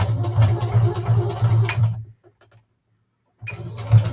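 Domestic sewing machine stitching a seam along a fabric edge, a rapid close mechanical chatter that runs steadily, stops for about a second and a half of silence, then starts again.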